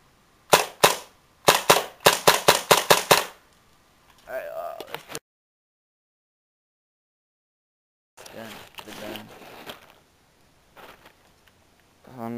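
A Tactical Force TF-11 airsoft rifle fires close by in quick, sharp cracks, first a pair, then a fast burst, followed by a voice, silence and softer clicks and scattered pops.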